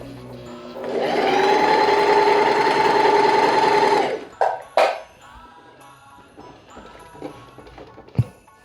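A Lion 5500A semi-industrial sewing machine runs a straight stitch, a loud steady mechanical whir close by for about three seconds before stopping, followed by a few clicks and clunks of handling.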